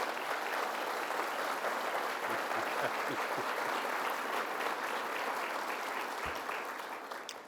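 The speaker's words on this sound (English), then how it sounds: "Let's give him a round of applause." An audience at a government announcement event in Western New York applauds for an official, a broad steady wash of clapping that stays even and then tapers off at the end.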